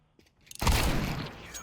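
Gunfire in a multiplayer shooter game erupts suddenly after a brief quiet, a loud dense burst of shots that settles into a sustained rattling roar.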